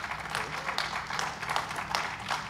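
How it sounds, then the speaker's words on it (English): Audience applause for a panel at a streaming and live community conference, a soft, steady patter of many hands clapping at moderate distance. "A round of applause for our panel."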